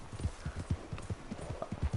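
Horse hooves clip-clopping in Red Dead Redemption 2, a steady walking rhythm of soft, muffled thuds under a faint game ambience.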